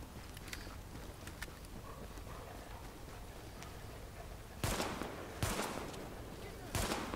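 Gunfire in The Division video game: after a stretch of low background noise and faint clicks, three sharp, loud shots ring out, spaced about a second apart.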